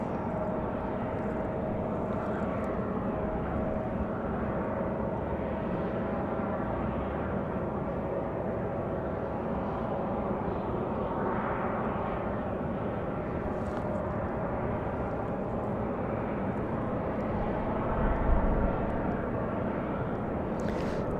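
A Southwest Boeing 737 airliner taxis at Raleigh-Durham airport at night, its steady distant engine roar rumbling continuously with a faint brief swell near the end, no talking.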